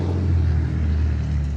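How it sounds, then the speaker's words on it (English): A car with a loud exhaust rumbles past nearby, giving a deep, steady low drone that holds throughout the brief moment. "Everybody drives by here with loud exhaust."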